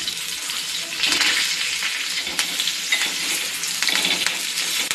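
Bangda (mackerel) fish frying in a pan after being flipped, with a steady close sizzle and crackle that swells in bursts at several moments, no talking.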